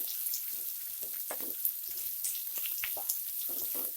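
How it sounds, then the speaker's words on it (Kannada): Onions frying in a pan for pepper rice, a steady hissing sizzle with light crackles and occasional stirring scrapes, close and even throughout without speech. "ಈಗ ಈರುಳ್ಳಿ ಹಾಕ್ಕೊಳ್ಳಿ, ಫ್ರೈ ಮಾಡ್ಕೊಳ್ಳಿ"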